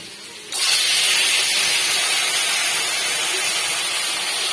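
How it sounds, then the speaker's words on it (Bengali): Small kachki fish go into hot oil in a wok, setting off a loud, steady broadband hiss of frying that bursts in after a quiet start and holds close and even to the end. "এবারে আমি এই পাশে এই কড়াইয়ের মধ্যে আস্তে আস্তে মাছগুলোকে ভেজে নেব"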